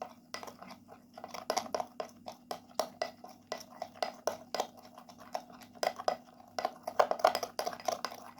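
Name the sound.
mixing coffee body pack ingredients with turmeric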